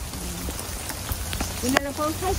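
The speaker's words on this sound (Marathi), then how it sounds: "लयच पाऊस दिसतोय इकडं" Rain falls in a constant, even hiss on the road near Kurduwadi, Maharashtra, with a few faint voices nearby.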